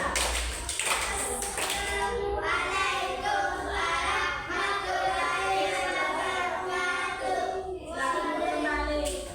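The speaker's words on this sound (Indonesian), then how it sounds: "Jadi tepuk tangan dulu untuk mereka sebelum kita." Pupils in a primary-school classroom clap for a group of classmates, a steady, busy patter of many small hands with children's voices chattering over it throughout.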